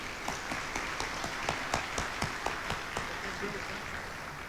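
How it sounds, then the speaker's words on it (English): Audience applause for the co-chairs at a 2023 MSFA convention session, a steady hall-wide patter of clapping with a few louder claps standing out, moderately loud and continuous throughout. "Let's give these ladies a round of applause."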